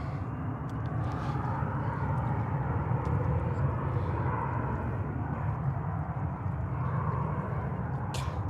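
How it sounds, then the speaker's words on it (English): Cathay Pacific flight 830, a Boeing 777-300 arriving from Hong Kong, landing on runway 31 right at JFK, a steady loud broadband jet roar that holds constant throughout with no talk. "So that's Cathay flight 830 from Hong Kong, 777-300."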